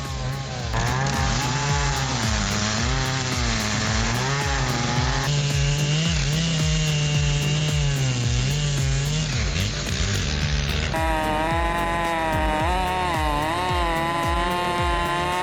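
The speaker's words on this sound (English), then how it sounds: "The chainsaw is carefully prepared, the blade checked, tightened, and aligned perfectly." A Stihl 880 chainsaw roars steadily through a massive redwood log, its engine pitch wavering as the blade bites, then rising sharply near the end. Loud and close, no voices.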